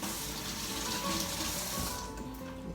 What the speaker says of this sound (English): I think I need to rinse my fingers.